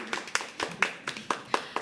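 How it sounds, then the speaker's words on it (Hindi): Audience applause after a poem recitation comes as a short, fairly faint run of sparse hand claps, roughly evenly spaced, with a few people clapping at a moderate distance. "तालियां बजा सकते हैं।"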